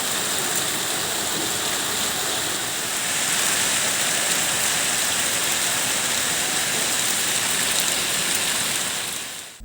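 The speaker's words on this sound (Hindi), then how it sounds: "से फिर से बारिश का सिलसिला शुरू हो गया है" Heavy rain pours down steadily in a district with rivers near villages, a dense broadband hiss that stays loud and constant throughout with no voices.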